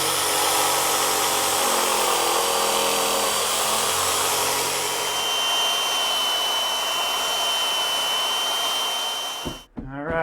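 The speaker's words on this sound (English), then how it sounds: "I'll sweeten it with a belt sander." A belt sander runs continuously on a wooden blank, a steady loud broadband whine with a faint high tone that holds for about nine seconds before cutting off abruptly.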